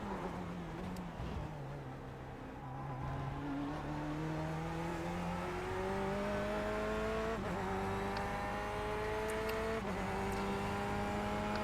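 A Corvette C8R GTE race car laps the Daytona road course, its engine droning steadily and climbing in pitch through the gears with brief shift dips, loud and close from onboard.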